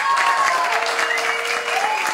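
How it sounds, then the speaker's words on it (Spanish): Studio audience applauds for a guest on a live Argentine comedy and music variety broadcast, a steady, dense wash of clapping that holds for about two seconds, with a faint tone running underneath. "Un aplauso muy fuerte para la señorita Chita."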